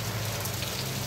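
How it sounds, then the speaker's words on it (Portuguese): Heavy rain falls at Sítio Exu in Saloá, Pernambuco, a steady, dense hiss on surfaces with a low rumble underneath, continuous and fairly close with no voices. "Começou a chover bastante aqui no sítio Exu, Saloá, Pernambuco."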